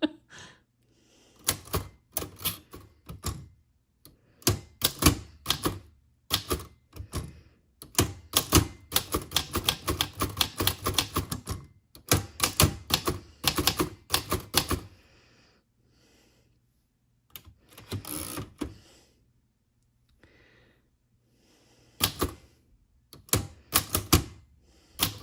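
Vintage typewriter keys strike in quick irregular bursts, with dense clattering runs and short pauses between lines, loud and close, with no voices.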